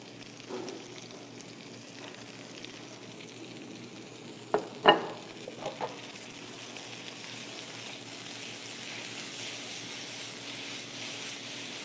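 Peppers frying in a pan, a steady, quiet sizzle with a few louder clatters and crackles from stirring near the middle, then settling back into an even hiss.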